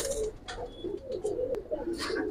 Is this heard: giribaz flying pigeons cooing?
yes